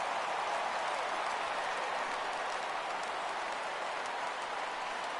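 A baseball stadium crowd at a Braves home game against the Mets makes a steady, dense roar of cheering and clapping that holds evenly throughout, with no voices standing out.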